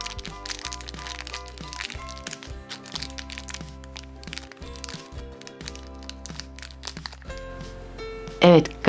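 A plastic Chops surprise egg capsule cracks open with a burst of crinkling and crunching clicks, close and fairly loud, followed by a few handling taps near the end.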